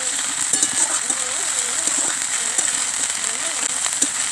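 Spring onion leaves and green chilies stir-frying in a pan, giving a steady sizzle with occasional scraping of the stirring utensil, close and even.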